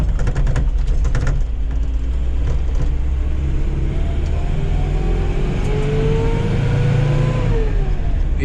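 A Nissan 720 pickup truck engine running rich, idling loud and close with a steady low rumble and a whine that slowly rises and falls, alone with no talk.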